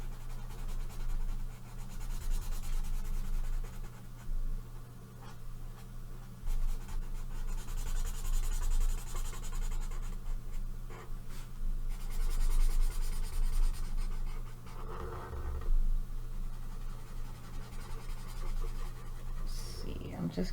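Colored pencil scratching across paper while coloring autumn miniature scarecrow pictures, giving a steady soft rasp of strokes over a constant low background hum.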